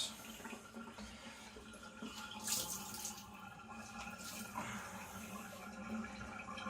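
Water is drained off after knife sharpening on Naniwa Professional whetstones, a continuous rushing flow like a sink emptying, moderately loud and steady with no talking.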